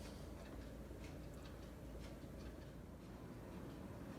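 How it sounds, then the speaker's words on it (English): Several household clocks on a wall tick softly in a quiet room, a faint, dense clatter of overlapping ticks with small sharp clicks standing out now and then; no chimes ring, and no one speaks. "I don't know if you can hear them, but those are my clocks"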